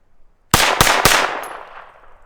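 Three sharp gunshots fire Norma ammunition into dirt at close range, each a loud crack in quick succession, with the reports ringing and decaying for about a second afterward.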